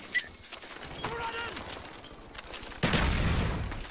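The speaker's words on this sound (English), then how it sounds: "Random grenade, go!" A grenade explodes in the shooter game Call of Duty: Black Ops, a loud close blast near the end that follows scattered gunfire-like bursts and lingers as a rumbling roar.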